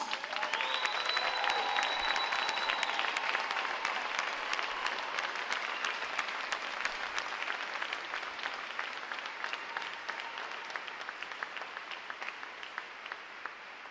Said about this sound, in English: Midshipmen, let's give them a round of applause